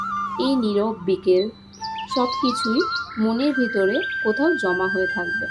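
Birds chirping in a green village field in rural Bengal, repeated bright calls scattered under a calm voice speaking throughout.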